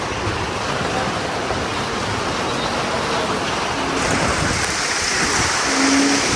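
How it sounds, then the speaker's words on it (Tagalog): Heavy rain pours steadily with rushing, flowing water in a dense, loud roar that barely changes, with faint brief tones surfacing now and then beneath it. "Yung ulan lang ang malakas."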